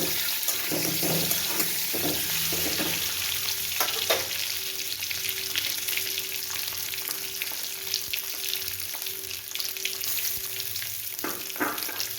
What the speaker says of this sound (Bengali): এবার আমি ডিমগুলোকে খুব হালকাভাবে ভেজে নেবো